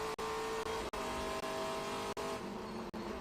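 A Trans Am TA2 race car at Watkins Glen runs flat out down the front straightaway, its engine a loud, steady close-up roar broken by a few sharp, brief dips at the gear changes.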